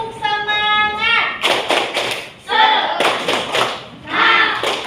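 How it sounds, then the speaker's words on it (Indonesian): Schoolchildren in a classroom perform a rhythmic spirit clap, several bursts of sharp claps and taps in a patterned beat alternating with chanting children's voices and a sung tone. "Coba tepuk semangat."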